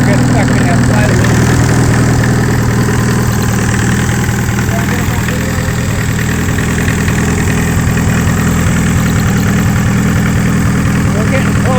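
A Mercedes-Benz 220 diesel engine runs steadily, loud and close, with a rough low clatter throughout as it idles after work to reduce its smoke.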